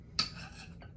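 A single utensil clinks against a dish as a sauce mixture with half a teaspoon of sesame oil is stirred, followed by a brief soft scrape; close, fairly quiet, with no talking.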